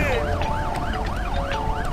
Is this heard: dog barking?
no